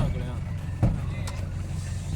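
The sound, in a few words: car being driven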